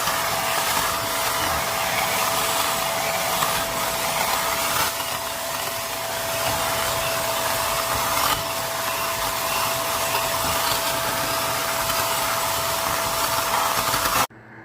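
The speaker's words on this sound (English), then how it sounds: "I love this vacuum. It's a Shark vacuum." A Shark vacuum cleaner runs steadily and loudly at close range with a constant motor whine and airflow roar, holding one even pitch for about fourteen seconds before cutting off abruptly.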